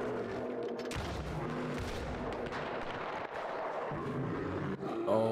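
Heavy gunfire from the video game Red Dead Redemption 2: loud, dense booming shots and blasts that roll on almost without a break, with no voices over them.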